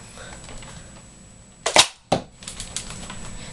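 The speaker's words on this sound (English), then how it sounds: "We're going to start by firing the missile, and to do that, you pull this back, and push it forward fast." Nerf Modulus Tri-Strike toy blaster launching its missile: a sharp mechanical clack from the priming pull and push, then a second snap a moment later, with quieter handling clicks afterward, close and otherwise quiet.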